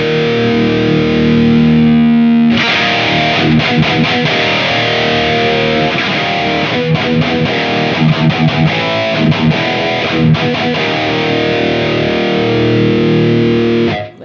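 A metal guitar runs through a distortion plugin. It rings with one heavily distorted chord, then a dense run of chugging riffs with sharp stops and palm-muted stabs before fading out.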